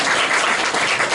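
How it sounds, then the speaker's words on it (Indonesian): Students in an Arabic grammar class clap briefly on request, a short, dense burst of applause close by. "Tepuk tangan dong, masa nggak diberi?"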